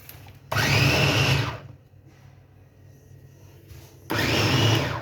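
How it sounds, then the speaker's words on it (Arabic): A blender whirs loudly in two bursts, running about a second each time with a quieter gap between, grinding tomatoes in a harsh steady roar. "دابا ان شاء الله غنمشي نطحن ماتشون"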